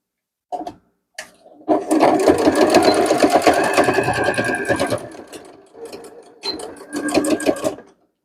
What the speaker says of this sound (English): So I'm just going to sew across that 2-inch line.